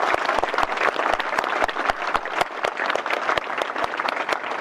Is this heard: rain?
no